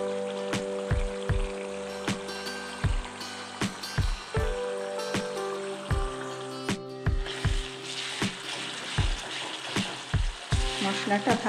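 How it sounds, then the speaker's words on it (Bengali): Spice masala fries in a pan, a continuous sizzle punctuated by steady, rhythmic scrapes and knocks of a spoon stirring, close and fairly loud. "মশলাটা ভাজা ভাজা হয়ে গেছে।"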